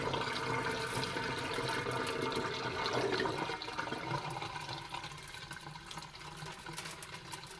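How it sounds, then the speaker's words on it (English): Soaking water is dumped out of a container of grain being prepared for mushroom growing, a steady gushing pour that gradually thins and quiets toward the end. "So we can do the final dump of the water."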